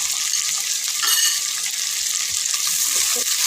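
Vegetables and cubed onion with garlic and black pepper fry in a hot pan, a dense, loud, continuous hiss and sizzle with faint stirring scrapes underneath, close throughout.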